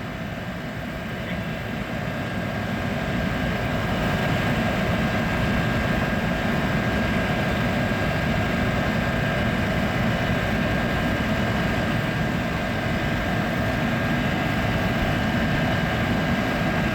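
Crop-dusting drones flying over a field, a steady loud droning hum with a high whine that holds constant for the whole stretch, close and unbroken with no talk.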